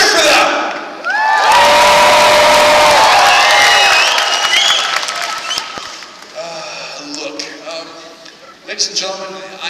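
A large arena crowd at a knights and horses show lets out a loud burst of cheering, whooping and clapping that fades after several seconds into an announcer's voice over a PA.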